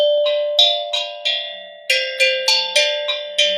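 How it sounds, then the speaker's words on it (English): Metal tongue drum struck in a lively run of about a dozen bell-like ringing notes, each with a sharp attack and short shimmering decay, close and clear with no talking. "This is a tongue drum."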